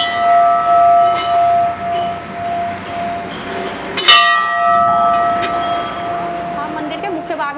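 Bells ring at a Hindu temple, Motamhadev Mandir in Sahanpur, Najibabad, with steady sustained tones and a fresh clanging strike midway, loud and close amid crowd noise while someone talks over them.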